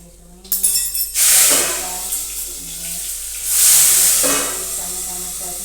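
Tomatoes and chillies hit hot oil already holding mustard seeds, cumin and curry leaves, tempering for a bottle gourd and dal curry. Two loud, hissing sizzle bursts flare close up and then slowly settle.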